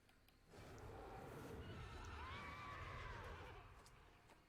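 A horse in a video game whinnies loudly in a long, wavering neigh over a steady background hum.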